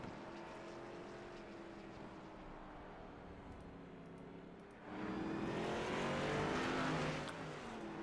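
Race cars rumble on pit road during an ASL Winter Series Final race, engines droning steadily at mid distance, then growing louder and brighter as more cars pass close by around the midpoint before easing slightly.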